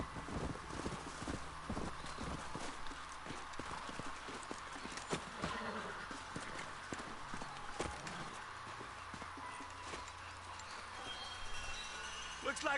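Steady clip-clop of horse hooves in the video game Red Dead Redemption, moderately close, with an occasional whinny and faint background chatter.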